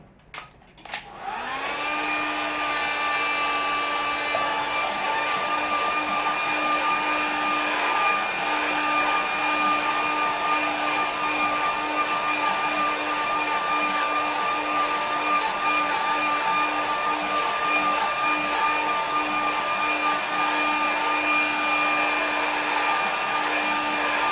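A hair dryer blows steadily close by to dry wet paint on a seascape painting. It starts up with a brief clatter, then gives a continuous loud whooshing hum with a constant motor whine.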